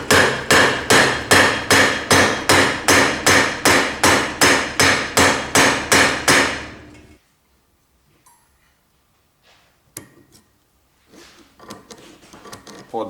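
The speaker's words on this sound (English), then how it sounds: "This is the place where you need to use hammer" A hammer strikes a BMW E38 750iL's suspension joints in a steady run of about fifteen loud, evenly spaced metallic blows. Then the blows stop and a few faint clanks and handling noises follow.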